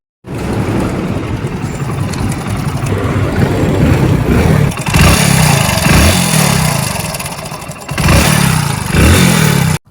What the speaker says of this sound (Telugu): మనకు ఒకసారి స్టార్ట్ అయితే మనకు ఇంజన్ సౌండ్ అనేది గమనించండి ఒకసారి